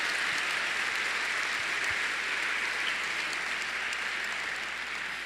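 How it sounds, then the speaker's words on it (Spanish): A church congregation applauding during a Spanish-language evangelical sermon, sustained dense clapping from many hands across the room for several seconds without voices. "Dele un aplauso al Señor porque andamos en novedad de vida."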